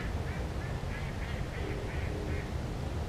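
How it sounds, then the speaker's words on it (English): Many ducks quack in a marsh on the first Saturday of duck season, with repeated overlapping calls over a steady rushing background, mallards and wood ducks among them. "as you can hear, there's a lot of ducks around me"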